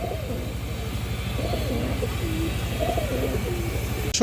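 Pigeons of an old-line garden breed cooing in repeated soft throaty phrases over a steady low rumbling hum, fairly close by.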